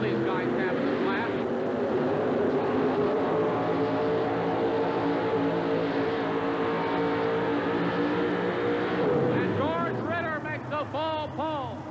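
A Chevrolet 4wd pulling truck roars at full throttle during a 1988 indoor truck and tractor pull in Birmingham, a sustained loud engine drone with a rising rev near the end, while an announcer talks over it.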